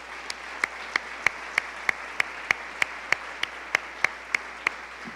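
Church congregation clapping in unison during a Sunday service, about fifteen sharp, evenly spaced claps in a steady beat over a constant background hum.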